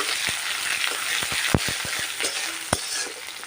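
Chopped large onion frying lightly in a pan for a jackfruit and pumpkin curry, a constant close sizzle broken by sharp spatula taps and scrapes, some louder, with no talking.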